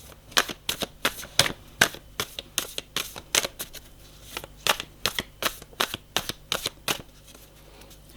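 Tarot cards being shuffled for a love reading, a rapid run of crisp riffling bursts in a steady uneven rhythm, close and fairly quiet, with no voices.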